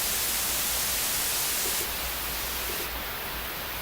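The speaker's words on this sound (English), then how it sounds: "We're using white noise, not pink noise." Loud, continuous hiss of broadband white noise, steady throughout with slight shifts in tone partway through.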